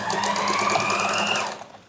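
Sewing machine stitching lace onto fabric, a short fast burst of needle chatter that runs steadily and then winds down to a stop, close by with no talk.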